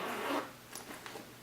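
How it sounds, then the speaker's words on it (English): The zipper on a small pouch of an Ergo baby carrier is pulled, one quick close zip followed by a few fainter short zipping strokes. "there's a little zipper pouch."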